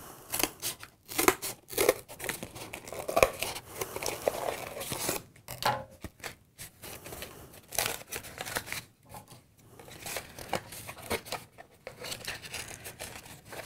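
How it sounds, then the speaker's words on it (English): Scissors cut through cardboard for a flower press in a series of close, crisp snips and rasping slices, with short pauses between cuts and no talking. "let me cut the cardboards."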